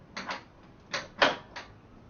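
A door fitted with a Freedor automatic door closer swings shut, giving a handful of soft clicks and knocks over about two seconds, near and fairly quiet with no talk.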